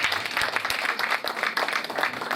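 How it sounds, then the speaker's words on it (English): A crowd at a law class reunion gala night applauds a professor, a dense, continuous clatter of many hands clapping at moderate distance, with no speech over it. "Please give him a round of applause."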